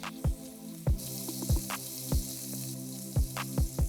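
Finely chopped onion drops into hot oil with black cardamoms, cloves and peppercorns, setting off a steady sizzle punctuated by regular sharp popping crackles, close and alone.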